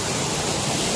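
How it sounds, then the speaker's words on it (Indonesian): Steady, dense roar of the Coban Sumber waterfall in Nongkojajar, a broad unbroken rush of falling water filling the whole short stretch, with no voices over it. "Air terjun tersembunyi yang kita eksplor itu air terjun Sumber."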